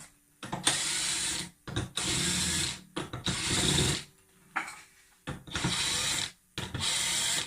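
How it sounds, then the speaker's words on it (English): A power drill whirs in repeated bursts of about a second each, separated by short pauses, close and fairly loud with no talking. "grab your drill"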